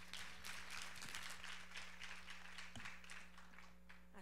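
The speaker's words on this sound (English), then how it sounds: "Let's give a round of applause to them." Audience applauding a panel at an event, a faint, distant, continuous patter of many hands clapping with no talk.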